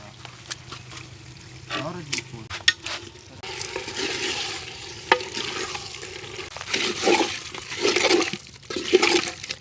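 Chicken goes into a pot with ginger garlic paste and gets stirred, giving wet sloshing, scraping and sizzling bursts close by, with a voice speaking intermittently over the cooking.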